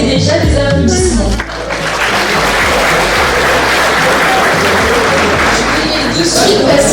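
Audience applause at a university graduation ceremony, a loud, dense burst of clapping from a large hall crowd that swells and holds steady after a short spoken line.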